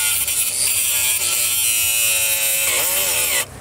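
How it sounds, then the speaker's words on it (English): An angle grinder bites into a coated motorcycle lock, a steady high-pitched whine holding for several seconds before dropping in pitch and cutting off near the end. "Now this lock apparently has a special coating, making it angle grinder proof."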